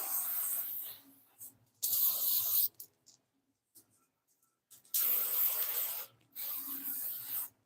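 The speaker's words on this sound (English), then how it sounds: "some shining spray" Several bursts of hissing hair shine spray, a long one then a pause and two more, close up with brief rubbing sounds between them.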